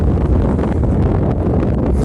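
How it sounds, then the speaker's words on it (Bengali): Strong wind blowing across a dry, raised strip of land between two rivers, a loud steady rumbling gust buffeting the microphone throughout, with no voices. "এই যে বাতাস প্রচুর বাতাস"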